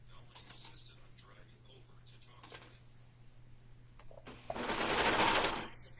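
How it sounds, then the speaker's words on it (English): A serger sewing machine runs in a home workroom, a soft steady mechanical whir with faint ticking that swells into a louder, denser burst of stitching near the end. "I conquered the serger, as it were."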